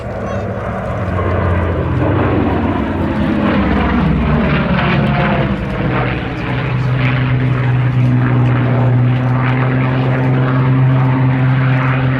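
A twin-engine P-38 propeller fighter with twin tail booms flies past at an airshow, its loud droning engines rising and shifting in pitch as it passes, steady and close throughout.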